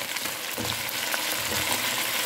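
Chicken pieces frying in a pan with soy sauce, sweet paprika and salt, giving a steady close sizzle with faint stirring.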